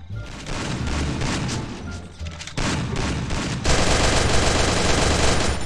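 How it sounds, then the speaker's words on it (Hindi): Rapid machine-gun bursts and booming explosions from a Garena Free Fire battle, loud and continuous, swelling heavier toward the end with dense overlapping shots and blasts. "इतना ज्यादा बम फूट रहा है भाई"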